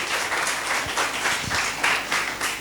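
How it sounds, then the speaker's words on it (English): Audience applause for invited alumni guests at a campus talk session, a steady wash of many hands clapping at moderate volume throughout, with no voices over it. "So can we all have a beautiful round of applause for all our guests here?"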